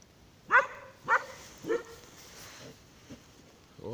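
Dogs run around on a frozen lake during winter ice fishing, giving a few sharp barks and yips at moderate distance, spaced apart against quiet outdoor air.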